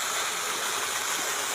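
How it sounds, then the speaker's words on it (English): Shallow water runs under a small stone bridge with a steady, even hiss and babble from nearby, and no voices or other sounds. "Nice little shallow water here"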